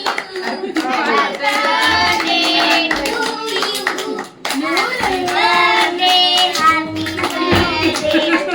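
Several people clap together for a birthday, a steady run of hand claps with brief pauses, heard over a lively, busy mix of voices and a child's chatter.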